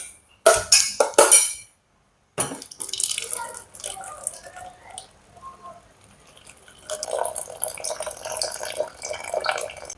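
Water pours into a pot of chicken curry being seasoned with salt, a steady splashing stream after a few sharp clinks of utensils, continuing close and moderately loud.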